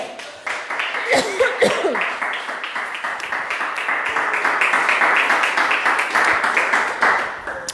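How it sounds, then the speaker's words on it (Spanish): A church congregation claps in a steady rhythmic beat that builds into fuller applause. Voices and calls come through underneath the clapping. "Póngase contento y aplauda a Cristo."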